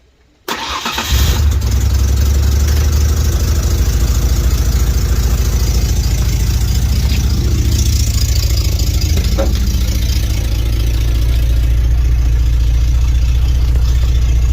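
A 1992 Ford Ranger pickup's newly installed 3.0L engine cranks and catches, then settles into a steady, loud idle with a low rumble that runs uninterrupted.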